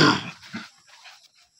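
A dog close by gives a short burst of rough breathing and panting that fades out within a second or two.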